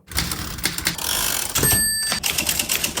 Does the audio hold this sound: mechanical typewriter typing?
yes